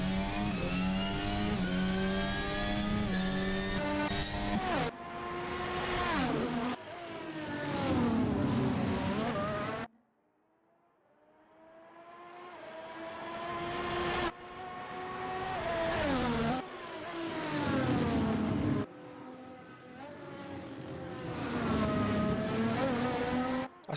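Race car engine in an F1 racing video game revving hard and shifting gears repeatedly, loud and close, with one brief lull before the engine climbs again.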